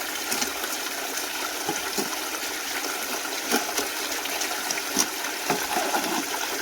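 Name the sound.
water running through an Adventure Sluice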